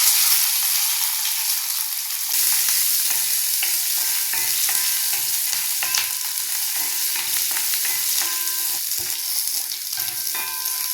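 Shallots and garlic sauté in hot oil with mustard seeds and urad dal, a steady close sizzle broken by repeated scraping of a stirring spoon against the pan.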